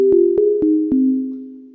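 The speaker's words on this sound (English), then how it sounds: "So here's a sample sine wave," A pure sine wave sample played on a Yamaha EX5 synthesizer with reverb: four short notes in quick succession, each a clean steady tone stepping slightly lower and ringing on smoothly, alone and clear.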